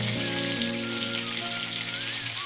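Mushrooms cook in a pan for mushroom kabab, giving a steady, rain-like sizzle close by, with a low tonal hum and faint whistling tones running underneath and no talking.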